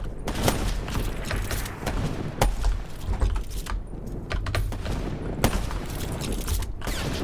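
Sharp repeated gunfire cracks from a video game shooting match, scattered bursts and single shots over steady game ambience, with no talking.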